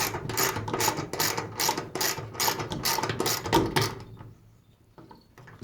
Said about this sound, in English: I'm also forcing the screw in the hole as I tighten